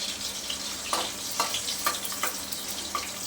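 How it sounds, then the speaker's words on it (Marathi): Steady sizzling of crushed garlic frying in hot oil for a taro-leaf dish, with a handful of sharper crackles popping up every half second or so; no one speaks. "आणि लसूण तेलावरती आपल्याला फ्राय करून घ्यायचं आहे"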